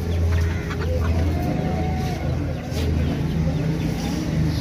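Hens clucking among a busy bird market crowd at the Sunday bazaar in Shalimar Bagh, Lahore, with low repeated clucks under steady ambient hubbub and traffic noise.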